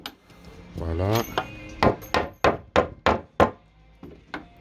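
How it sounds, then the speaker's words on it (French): A hammer taps a nail back into a wooden pallet with a run of about seven sharp, evenly spaced knocks, each ringing briefly. A voice speaks just before the blows begin. "je fais un petit coup de marteau"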